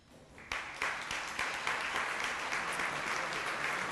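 A Hall of Fame induction audience breaks into sustained applause, dense clapping that rises in the first half second and holds steady to the end, moderately distant, with no talk over it.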